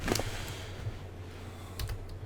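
Rapid, quiet clicking of keyboard keys in quick bursts, with a low steady hum underneath and no voices.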